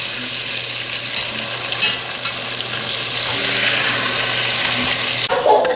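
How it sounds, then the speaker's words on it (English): Steady crackling sizzle of meat frying in hot oil, continuous and close, with a brief clatter near the end. "Okay, so I just finished frying that"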